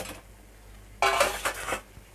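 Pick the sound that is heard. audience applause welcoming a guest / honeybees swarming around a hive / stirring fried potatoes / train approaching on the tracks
stirring fried potatoes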